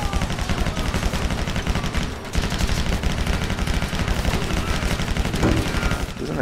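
Dense, continuous SMG fire from enemies in the shooter game Stranglehold rattles in rapid overlapping bursts, loud and close throughout with only a brief dip in the middle, and no talking over it.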